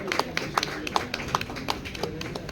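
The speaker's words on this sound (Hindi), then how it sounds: "श्रद्धा के लिए जोर से ताली प्लीज" An audience at a stage event for a Balaji Telefilms show claps lightly, a sparse run of individual handclaps spaced fairly evenly, fairly quiet and without a full roar of applause.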